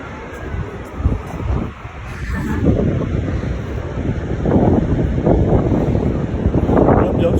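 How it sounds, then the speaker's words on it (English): Strong wind buffeting a microphone outdoors on a rough day, loud continuous low rumbling gusts that swell and ease, with faint background noise and no clear talking. "Yeah, it's very windy."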